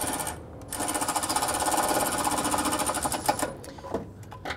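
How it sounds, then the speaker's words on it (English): A power tool, likely an impact driver or ratchet, runs nearly nonstop for about four seconds, snugging the lower bolt on the A/C condenser of a 2012-2017 Toyota Camry, loud and close with a steady buzzing drone. "let's go ahead and snug up that lower bolt"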